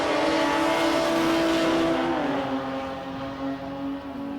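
Two drag racing cars launch down the strip together, a loud, continuous engine roar that rises in pitch and then begins to fade as they pull away.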